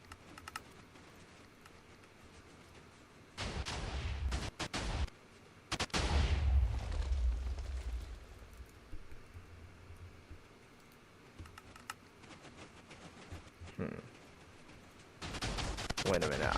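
Cannon explosions in a video game come through as a few thick, noisy blasts, one with a deep rumbling tail, spaced among quieter stretches of low background sound.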